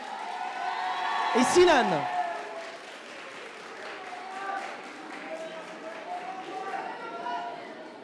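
An audience applauds students at a school eloquence contest semi-final, with a steady patter of clapping running under a voice announcing names and a brief sharp sweep early on.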